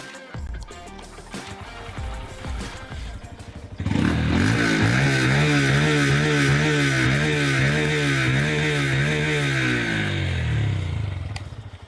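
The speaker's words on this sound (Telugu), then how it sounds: "ఎగ్జాస్ట్ టెయిల్ కూడా చాలా చంకీగా ఉంది దాని సౌండ్ ఎలా ఉందో నేను మీకు వినిపిస్తాను" A Honda Hornet CB 125 motorcycle idles quietly, then its exhaust jumps to a loud, sustained rev with a throbbing, bassy note held for several seconds before easing slightly, heard close up.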